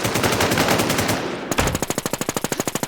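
Rapid automatic gunfire in the video game Infestation, a dense burst followed by a sharp, evenly spaced string of close, loud shots with no talk.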